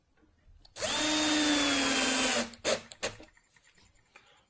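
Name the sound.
screws being driven into the assembly kit with a drill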